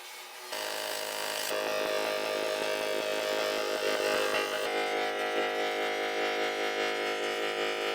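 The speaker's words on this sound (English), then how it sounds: "Before we weld, we have to clean everything with a stainless wheel on the grinder." Angle grinder fitted with a stainless wire wheel cleaning aluminium alloy on a custom pontoon dinghy before welding: a loud, continuous high-pitched whine and scrubbing grind starting abruptly after a brief pause and running steadily throughout.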